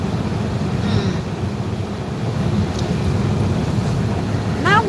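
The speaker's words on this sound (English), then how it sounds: "And it's a bit windy today." Wind blowing steadily on a snowy winter day in Sweden, a continuous low rushing noise buffeting the microphone, with a faint brief voice at the end.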